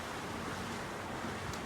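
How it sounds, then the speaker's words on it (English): Ocean waves wash steadily below a cruise ship balcony at night, a faint, continuous rushing surf mixed with light wind noise and no voices. "If I'm super quiet, you can probably hear the waves coming by."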